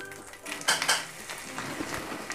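Chhana being stirred into a spoonful of ghee in a pan over low heat, a few close clinks and scrapes of a spoon against metal over a faint, soft sizzle, quiet and short, with no talk.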